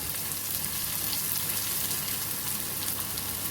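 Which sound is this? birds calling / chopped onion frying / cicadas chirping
chopped onion frying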